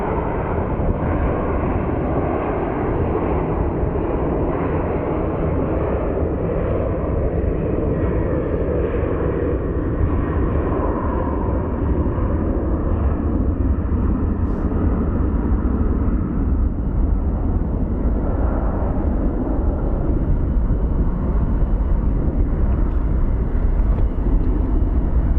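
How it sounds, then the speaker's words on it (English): A Southwest airliner lining up on the runway at Phoenix Sky Harbor International Airport, giving a continuous broad jet-engine rumble that holds steady from start to finish. "Southwest lining up"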